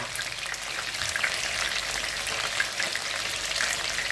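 Chicken wings frying in oil, a steady close hiss and crackle of sizzling fat with scattered pops, continuous and even throughout with no talking.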